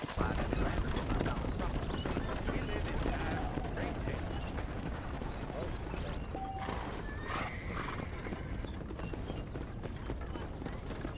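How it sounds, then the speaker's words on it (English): A horse in the video game Red Dead Redemption, with a busy stream of hoof clip-clops and a brief whinny mixed into a loud, dense game soundscape. "But I do have access to a horse."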